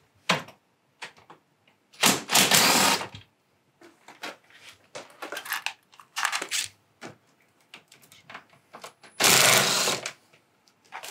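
Screws are backed out of the fan of a Mitsubishi FZ series air conditioner: two short, loud whirring bursts from a driver, with scattered clicks, taps and handling noises between them at close range.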